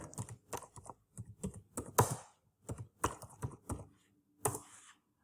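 A name is typed on a computer keyboard into a Google search box: a quiet, close series of separate key clacks in uneven bursts, with a few heavier strokes and short pauses between.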